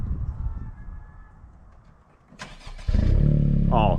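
A 10th gen Honda Civic Si fitted with a race exhaust and front pipe cranks and fires up near the end, settling into a loud, close, steady idle after a quiet stretch of ambient noise.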